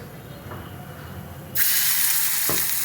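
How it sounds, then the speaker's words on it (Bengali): Batter-dipped okra drops into a wok of hot oil for deep frying, and a quiet hiss abruptly swells into a loud, bright, continuous sizzle, with a faint clink of utensils before and after. "ভেন্ডিগুলো এই ব্যাটারটার মধ্যে চুবিয়ে আমি এখন এই কড়াইতে দিয়ে দেবো"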